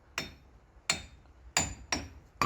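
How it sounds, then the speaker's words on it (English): A hammer taps a stuck axle out of a Ford Festiva during engine removal: four sharp metallic strikes at steady, unhurried intervals, close and clear with a short ring after each, with a fifth blow starting at the end. "you can take your hammer and just kind of tap the axle out"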